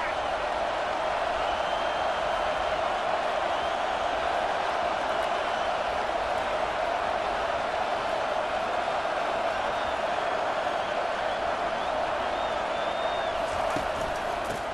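A football stadium crowd at South Carolina versus Clemson roars in a dense, steady wash of cheering, under a commentator talking throughout.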